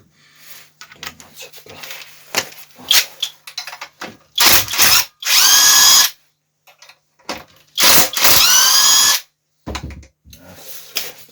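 A power tool unscrews bolts on a petrol generator that misfires and is being taken apart: two long, loud, whining bursts, scattered clicks and metal handling noises between them.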